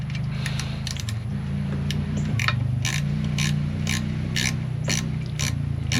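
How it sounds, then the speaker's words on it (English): Ratchet wrench loosening the cam chain tensioner bolt on a DRZ motorcycle engine top end with the valve cover off, a steady run of close, crisp clicking ratchet strokes at a brisk rhythm. "what you want to do there is just loosen this bolt up first"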